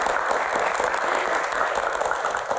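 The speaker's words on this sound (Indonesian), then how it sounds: "Tepuk tangan buat teman-teman semuanya." Studio audience of university students clapping on a live Q&A talk show set, a dense continuous wash of applause heard alone for a couple of seconds.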